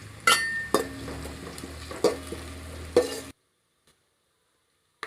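Onion and curry leaves sizzle in hot oil for a tempering, with a few sharp clinks of a spoon stirring the pan, before the sound cuts to silence about two-thirds of the way in.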